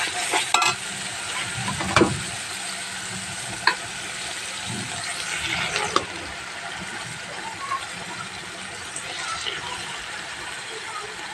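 Lemon-marinated duck meat dropped piece by piece into a spiced masala in a Bangladeshi home kitchen, giving a steady sizzle with scraping stirs and a few sharp clinks of the utensil against the pan.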